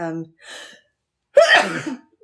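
A single sharp sneeze bursts out after a brief stretch of speech, loud and close, followed by a quick breathy tail.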